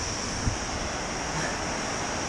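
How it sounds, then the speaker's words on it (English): A huge waterfall on the Magpie River roars as a steady, dense wash of broadband noise that stays constant throughout, with no voices over it. "Huge waterfall over there."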